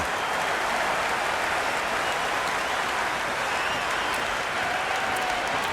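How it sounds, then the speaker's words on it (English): Roaring crowd in Cricket 26 at an India versus USA T20 World Cup match, a dense, continuous wall of cheering and clapping that stays loud and even throughout. "the crowd is at near bursting point at today's play"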